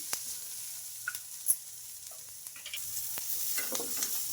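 Turmeric, onions and chopped coriander fry in a pan with a faint, low sizzle, broken by soft stirring clicks and scrapes of a spoon, close by and quiet with no talking.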